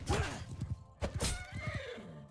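A horse in a battle video game gives a loud, close whinny with quavering rising and falling tones, followed by snorting and shorter neighs, along with a few dull hoof thuds.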